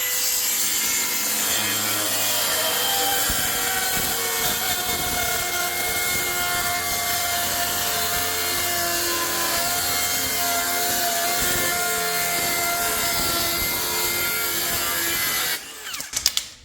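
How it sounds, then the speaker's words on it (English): A skill saw mounted on a RUITOOL adjustable guide base rips thin wood strips, a loud, continuous whining buzz with grinding texture that holds steady before cutting off abruptly near the end. "you can cut strips of 1 inch, ½ inch with your skill saw without moving and curving on it"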